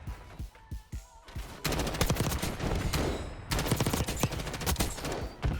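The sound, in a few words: rapid fire Kilo 141 gunfire in video game Black Ops 6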